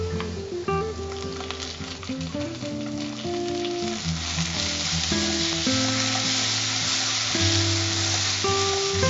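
Chopped tomatoes sauté loudly in a hot pan for Chettinad egg curry, a dense continuous sizzle and crackle heard close up over faint background music tones.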